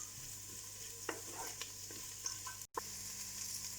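Crushed chilli, ginger and garlic sizzling in a pan, a faint steady hiss with occasional soft spoon scrapes and taps, cut off by a brief dropout near the end.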